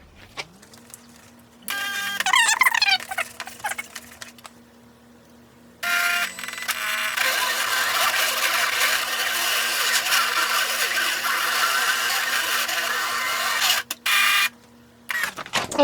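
A Silhouette cutting machine with a fabric blade works through fabric, its carriage motor whirring and stepping in bursts, then running in a long steady buzzing pass before stopping, close and fairly loud.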